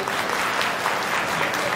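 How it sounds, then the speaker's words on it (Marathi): Brisk applause from a small live audience of women at a home game show fills the short moment, steady and close, with a voice briefly heard beneath. "ज्यांना वाटतं यांना देवीने टाळ्या वाजवा"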